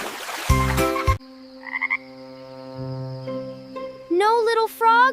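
Cartoonish frog croaks sound in a children's counting nursery rhyme, set among sustained tonal music with a short burst at the start and rising, warbling croaks near the end.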